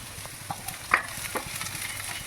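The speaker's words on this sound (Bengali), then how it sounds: "এখানে গাজরটা একটু ফ্রাই করবো হালকা করে" Carrots fry lightly in a pan for chow mein, a gentle, close sizzle with a few soft scrapes and small taps over a short stretch.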